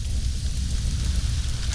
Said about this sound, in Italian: piove dalle nuvole sparse